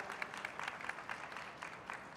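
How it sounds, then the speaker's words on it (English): An audience at an AI-for-development conference panel applauds the speakers with a moderate round of clapping. It sounds faint and somewhat distant, with scattered sharper claps rising above the wash. "A big round of applause for them."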